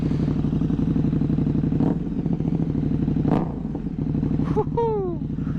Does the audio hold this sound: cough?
no